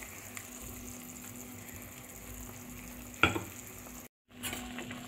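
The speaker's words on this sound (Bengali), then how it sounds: "আর এই যে ভেন্ডিটা ফুটছে, এর মধ্যেই আমি এই পেস্টটা দিয়ে দেবো।" Okra in a pan with mustard-poppy seed paste about to go in, a low continuous bubbling sizzle with a steady hum, one sharp clink partway through and a brief dropout near the end.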